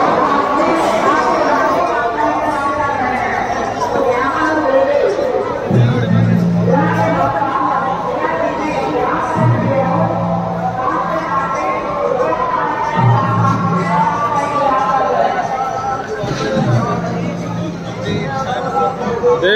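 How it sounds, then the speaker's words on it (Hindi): Dense crowd of pilgrims at Chitrakoot on Diwali, a steady babble of many voices and chatter close by, with a low rhythmic tone recurring every few seconds underneath and someone talking over the hubbub. "देख सकते हैं मित्रों कितनी भीड़ है आज"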